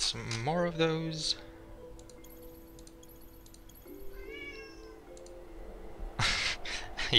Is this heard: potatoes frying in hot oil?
no